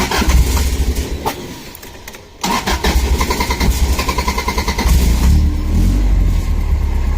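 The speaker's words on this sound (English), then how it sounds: "Now the motor's running." A car engine managed by a Link G4+ standalone ECU cranks, catches and settles into a steady idle, loud and close, with a brief dip in level before the running engine holds a continuous rumble.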